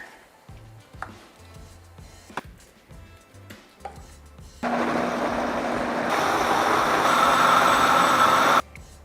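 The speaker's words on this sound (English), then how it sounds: "and then we'll add it to the blender." A blender whirs in a kitchen during a cooking demonstration with coconut milk, starting abruptly after a few soft knocks and clatters, then a loud, steady motor whine that holds for about four seconds and cuts off sharply.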